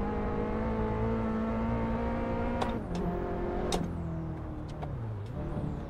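A Toyota Raize engine in a racing video game drones and revs up, pitch climbing with a few sharp gear-shift breaks, steady and loud without any talking.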